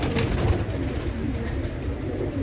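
Pigeons cooing in a loft of dub-type birds kept by a Jamshedpur, Jharkhand pigeon fancier, with a steady, close murmur of low coos and bird sounds throughout, no talking.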